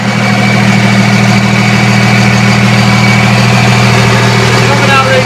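A 6-speed Cummins diesel truck on huge tires idles with a deep, steady rumble and vibration, loud and close, running evenly throughout.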